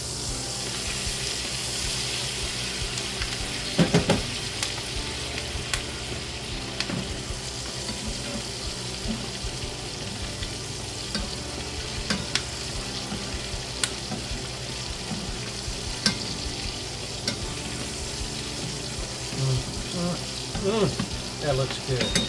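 A steak fries in a pan on the stove while being turned and basted, a loud continuous sizzle with occasional clinks and spoon scrapes throughout, steady and close.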